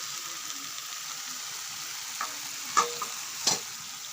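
Chickpea dal being added to pumpkin greens in a pan, a steady close sizzle hissing throughout, broken near the end by a couple of brief stirring clacks, with no voices.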